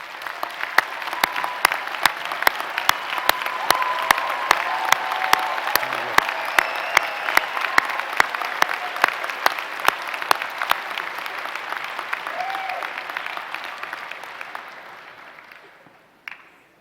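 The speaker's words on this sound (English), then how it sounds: "I would like us all to give an applause and recognize all the special mothers." Sustained applause from a university commencement audience honouring mothers, a dense wash of many hands clapping with a few scattered voices, steady and loud before tapering off at the end.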